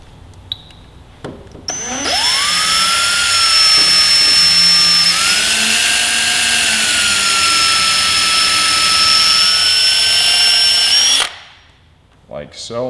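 A drill bores a hole into a motorcycle bolt for safety wire during track-day preparation, whining steadily and loudly for about nine seconds with a slight pitch dip midway, then spinning down.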